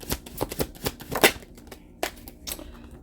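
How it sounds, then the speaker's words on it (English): A deck of tarot cards is shuffled by hand in a series of quick riffling and flicking bursts, close and fairly crisp, with short pauses between them and no talking. "Let's pull some cards for you"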